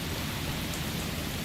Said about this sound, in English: It's the first time it's raining.